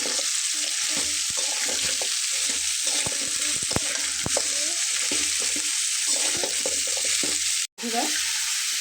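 A spoon scrapes and stirs ground coriander, cumin and other spices with dried fish paste and taro in a hot pan, steady sizzling under repeated clattering strokes, with one brief pause near the end.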